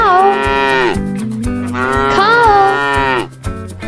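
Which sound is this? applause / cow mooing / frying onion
cow mooing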